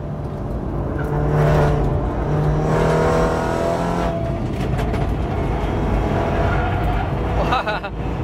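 Automatic BMW F30 sedan being raced, its engine revving hard under acceleration with quick gear shifts, loud and close from inside the car over constant road and engine roar.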